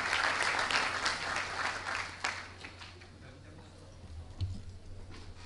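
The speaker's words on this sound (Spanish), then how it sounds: "un aplauso para ellos" An audience applauds the panelists at a meeting in Lima, Peru, steady moderate clapping that thins out after a couple of seconds into scattered claps and faint room noise.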